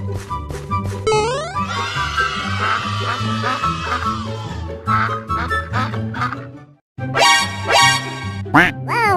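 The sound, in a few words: duck quacking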